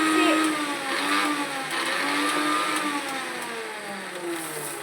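An electric mixie mixer grinder whirs steadily nearby while someone talks over the motor's continuous drone.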